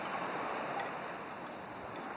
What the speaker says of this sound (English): I relax as I listen to the hissing of the waves